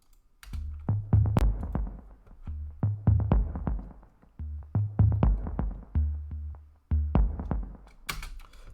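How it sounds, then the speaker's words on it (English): First layer of a bass sample in an electronic track, a deep, punchy bass pattern with a steady rhythmic groove of repeated hits and short pauses, played alone without talking. "So there's two layers of the bass here. They're both the same sample."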